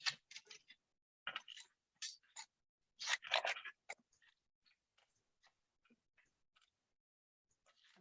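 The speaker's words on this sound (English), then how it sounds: "I'm terrible at typing when somebody's watching." Keyboard typing, close and quiet, in irregular bursts of rapid clicking keystrokes that thin out into sparse, scattered taps with pauses between, no talk over them.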